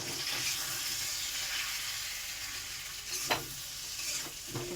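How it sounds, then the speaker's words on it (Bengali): Rohu fish with salt and turmeric sautéing in a pan, a low steady sizzle with a couple of distinct stirring scrapes near the end, close and quiet, no voices. "ভালো করে কষানো হবে, কষতে কষতে কাঁচা গন্ধটা ছাড়বে"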